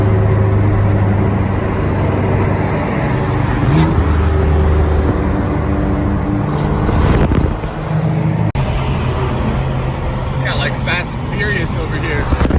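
A car drives along a packed highway among heavy traffic, making a loud, steady roar of engine and road noise with a few swells and one brief dip.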